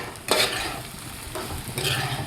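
Brinjal pieces frying in an oil tempering are stirred in a pan, with two bursts of scraping stir strokes over a steady sizzle, close and fairly loud, no talking.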